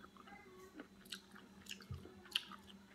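Close, quiet chewing of shrimp cocktail dressed with mayo and Frank's Red Hot, soft mouth sounds and a few small bites spread across the moment with no talking.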